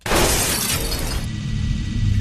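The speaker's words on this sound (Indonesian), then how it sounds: "atap kaca yang ditidurinya pecah" A glass roof shatters in a film scene, a loud sudden crash followed by a spray of breaking glass and tinkling debris that continues to the end, with no talking.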